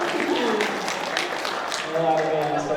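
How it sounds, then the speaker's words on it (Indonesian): An audience at a school theatre drama performance breaks into steady applause, a dense wash of clapping with crowd voices mixed in that carries on through the whole moment. "Tepuk tangan dong buat teman-teman kita yang ada di depan dong."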